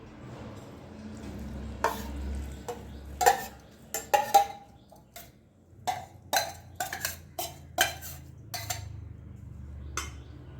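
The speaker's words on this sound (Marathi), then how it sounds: "आणि आता आपण हे तेल त्यामध्ये घालून देणार आहोत." Oil added to a homemade chilli pickle and stirred, giving a string of sharp metallic clinks and scrapes of a spoon against a steel bowl, uneven in rhythm and close, with no talking.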